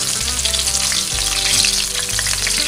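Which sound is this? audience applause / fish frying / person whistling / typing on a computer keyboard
fish frying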